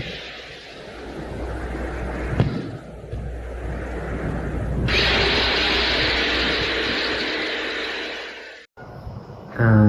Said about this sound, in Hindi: जो आपको ड्रिल जैसी आवाज़ सुनाई दे रही है वो वीनस की सरफेस में ही ड्रिल करी जा रही है।